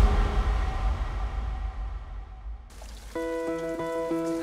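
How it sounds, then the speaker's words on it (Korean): Rain falls over a wildfire-stricken mountain area in Uiseong, a dense hiss of drops on surfaces that softens and fades, then gives way to a quieter steady patter with a faint tonal sound. "첫 발화 127시간 만에 하늘에서 단비가 내렸습니다."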